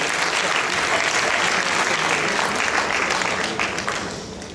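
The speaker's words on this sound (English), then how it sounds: "Round of applause, ladies and gentlemen, to the Deputy British High Commissioner to Sri Lanka and Maldives." A crowd at an awards ceremony for a girls' Shakespeare competition final in Sri Lanka applauds the chief guest with loud, dense clapping that holds steady, then starts to fade toward the end.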